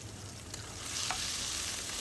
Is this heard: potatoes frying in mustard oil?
yes